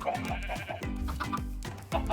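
Sheep in Minecraft giving repeated nasal bleats, a quick steady run of short calls from a small flock close by, with no talking.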